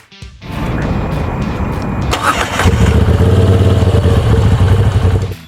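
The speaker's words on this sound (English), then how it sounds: "The engine rocks side to side when you rev it," A Moto Guzzi V7 Stone motorcycle engine cranks and catches, then settles into a loud, throbbing idle with a deep, steady pulse close by.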